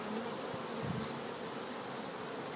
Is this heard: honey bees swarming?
yes